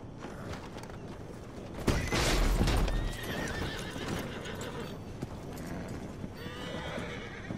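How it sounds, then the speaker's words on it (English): A horse's hooves clip-clop close by, with loud whinnying neighs that swell in a strong burst early on, then steady clopping and snorting continue to the end. "Just look at that horse."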